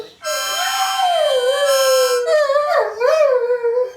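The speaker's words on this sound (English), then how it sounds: "Going on how Pluto looks and sounds today, it's safe to say that his laryngitis has been cured" A dog recovering from laryngitis howls in a clear, sustained voice close by, the pitch sliding up and wavering before dipping and climbing again in a second, shorter phrase.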